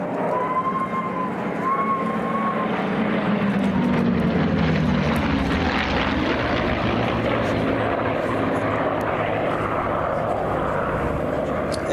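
P-51 Mustang flying a display routine at Sywell Airshow, a loud propeller engine drone with shifting pitch as it passes, continuous for the whole stretch.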